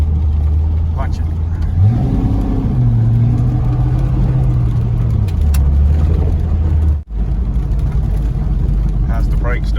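A C5 Corvette accelerates at full throttle on a rainy road, with its loud engine tone climbing and holding steady from inside the car. A brief drop near the end marks a shift before it pulls on.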